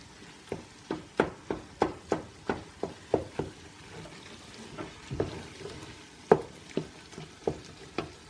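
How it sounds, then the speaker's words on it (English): A spoon stirs and breaks apart egusi in a cooking pot, a steady series of loud, rhythmic scraping knocks, about one per half second, with a soft sizzle underneath. "So I'm breaking the egusi apart because I don't want it too lumpy."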